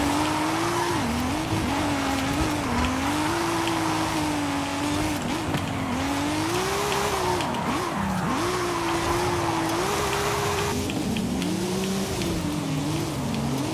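Nissan 350Z drifting in the racing game Forza Horizon 5, its engine screaming in a continuous wavering high whine with tire squeal, loud and steady throughout without talk.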